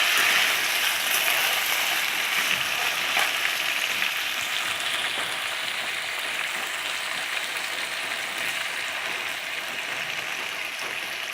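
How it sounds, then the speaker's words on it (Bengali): Boiled raw mango pieces frying with Bengali five-spice (panch phoron) for kacha amer chutney, a steady, dense sizzle with light hiss that holds fairly loud throughout, no voices. "একটু ভেজে নেব।"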